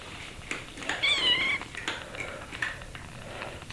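Several house cats meow close by, one drawn-out wavering cry followed by shorter meows, with light shuffling and rustling around them.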